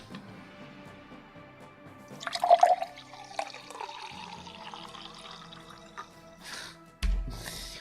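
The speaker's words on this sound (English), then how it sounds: "Water sound." Water is poured into a glass close to a microphone, a short gurgling splash followed by quieter trickling and a few drips, with faint clinks near the end.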